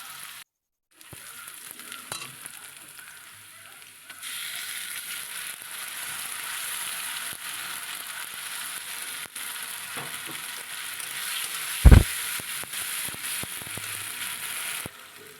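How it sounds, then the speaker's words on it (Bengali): Chopped onions with cumin seeds and bay leaf frying in hot oil, a loud steady sizzle that swells after a few seconds, with faint stirring clicks and one sharp knock near the end, no talking. "জিরে তেজপাতা ফোড়ন দিলাম এই যে কুচনো পেঁয়াজগুলো তেলের ওপরে দিয়ে দিয়েছি"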